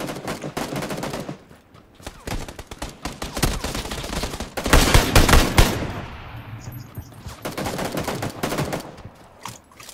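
Gunfire in the battle-royale game PUBG during a tournament match: rapid automatic bursts and single shots in quick clusters, with a heavy, loud volley in the middle and further bursts toward the end.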